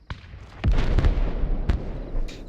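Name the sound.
armored vehicle ammunition cooking off after being hit, video game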